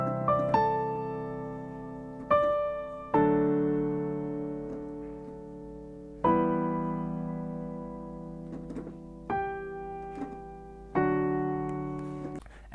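A piano plays a slow intro melody from a song, each struck chord ringing out and decaying before the next, about eight strikes in an unhurried rhythm, clear and alone.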